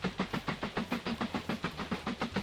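Train running in the video game Mashinky, a steady rhythmic clickety-clack of wheels over rail joints, evenly spaced beats repeating throughout at moderate level with no talk.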